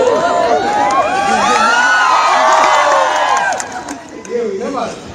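A crowd of children at a public event in Gorakhpur shouts and cheers loudly, with overlapping high voices that stay sustained for a few seconds and then taper off.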